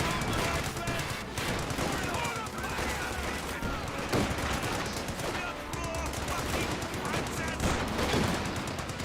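Rifle grenade launches and bursts of rifle and machine-gun fire from the Company of Heroes 2 battlefield, dense and continuous with overlapping shots and explosions, under a commentator's talk.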